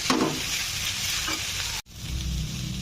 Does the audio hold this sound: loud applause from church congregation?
no